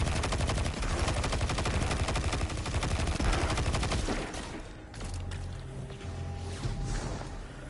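Rapid auto rifle fire in the shooter game Destiny 2: Lightfall, a dense stream of sharp repeated shots for about four seconds, then quieter scattered shots and game sounds.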